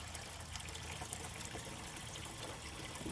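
Water runs from a hose into a used aquarium, a faint, steady trickle and splash that continues unbroken.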